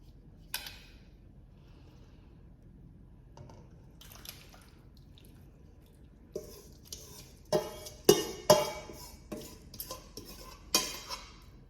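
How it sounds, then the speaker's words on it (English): Thick Greek giouvetsi pasta bake mixture is poured from a Thermomix bowl into a baking dish. A near-silent stretch gives way to a series of close scraping clinks and knocks of a utensil against the bowl and dish. "Now we're going to pour that into a dish."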